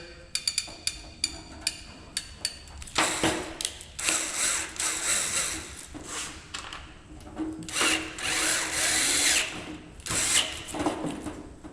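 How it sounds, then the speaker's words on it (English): A power drill bores pilot holes in a fender patch panel, with two main whirring bursts broken up by short clicks and handling noises at close range. "I always like to have all my holes pre-drilled"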